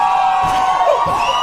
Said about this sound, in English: Like cheering effects?